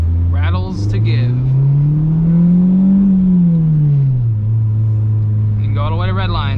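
A car engine revving up steadily toward redline, its loud droning pitch climbing then easing off, with brief speech at the start and end over the continuous engine note.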